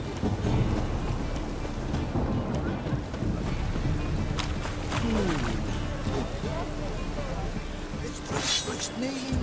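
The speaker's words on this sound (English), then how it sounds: "Rain, I like rain." Steady rain and rolling thunder in The Witcher 3 video game, a dense constant downpour with low rumbles, occasional creaks and brief brighter splashes.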